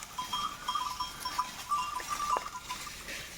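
Goats bleat faintly and intermittently in a tribal village, a few short calls scattered over a soft outdoor background, with no talking.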